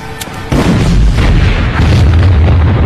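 A loud, deep gas explosion in a film bursts in after a brief quieter moment, followed by a sustained low rumble and crackling debris that keeps roaring to the end.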